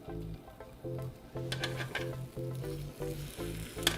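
Whisked eggs hit a hot pan of mushrooms and sizzle steadily, with a close frying crackle and intermittent scraping or stirring sounds, under a rhythmic low hum that pulses on and off.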